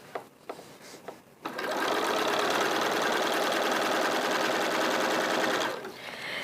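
A sewing machine stitches through thick layers of wadding on fabric strip hats, running in one loud, steady burst for about four seconds after a few light taps and clicks.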